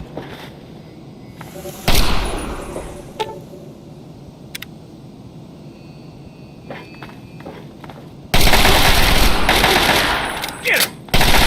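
Gunfire in the Fallout 3 video game, scattered shots and footsteps at first, then a loud sustained burst of automatic fire near the end with a short break before it resumes.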